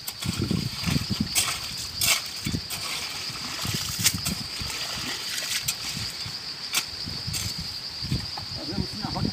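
Strong river current after days of rain rushes in a steady, broadband wash, with low murmuring voices and thumps breaking in throughout.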